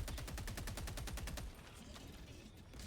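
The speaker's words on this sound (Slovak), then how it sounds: "ja tu mám robota, do ktorého strieľam a on neumiera" A fast burst of automatic gunfire at a robot in a video game, rapid evenly spaced shots for about a second and a half, then dying into rumbling echo and ambient noise.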